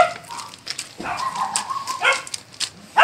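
A dog barks and yips in a simple home garden, giving several short, fairly loud barks at uneven intervals with some whimpering sounds in between.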